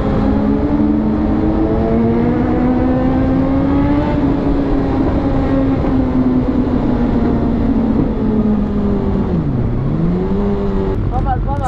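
A vehicle fitted with a new exhaust and no baffle accelerates hard, its loud, raspy engine note climbing steadily, dipping briefly on a gear change, then pulling again up close, with voices talking over it.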